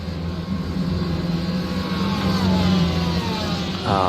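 An IMSA race car accelerating out of the pit lane at Road America produces a loud, steady engine drone that builds and holds throughout.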